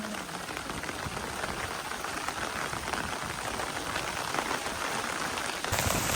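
Heavy monsoon-style rain pouring at Madhabpur Lake in Sreemangal, a dense continuous hiss of drops on water and surfaces, loud and close, with no speech.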